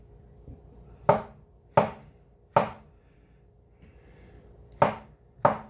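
Mushrooms being chopped on a cutting board with a Hoshanho kitchen knife: five crisp, separate blade strikes, three evenly spaced, a pause, then two more, close and fairly loud with no talking.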